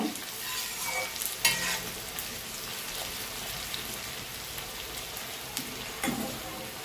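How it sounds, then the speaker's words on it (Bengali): Onions sizzling in a pan for chicken biryani while being stirred, a soft steady fry with occasional scraping knocks of the spoon, fairly faint and close, no voices. "পেঁয়াজটা একটু নেড়ে নেব।"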